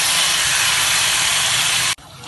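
Marinated chicken pieces hitting a hot, darkened masala gravy for chicken bhuna, giving a loud, close, steady sizzle and hiss that cuts off abruptly near the end.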